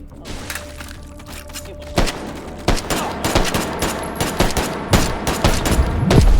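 Rapid bursts of gunfire in the VR shooter H3VR aimed at an exposed system core, sharp repeated shots growing louder and denser toward the end, with a faint continuous tone in the background.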